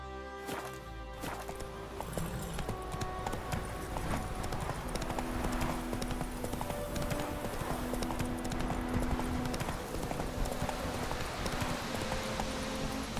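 Horse hooves clip-clop steadily on the ground in the Witcher 3 video game, a continuous rhythmic trot set against a dense bed of game ambience and music.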